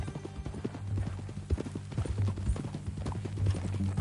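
A horse walks with a steady clip-clop of hooves on hard ground, the beats close and fairly even, with faint background noise and no clear talk.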